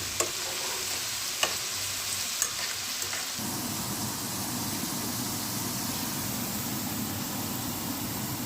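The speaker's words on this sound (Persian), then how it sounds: "پیازام دیگه سرخ شد" Onions fry in a pan with a constant hissing sizzle, a few sharp clicks of stirring early on, then a denser, fuller crackle as the cooking continues, with no voices.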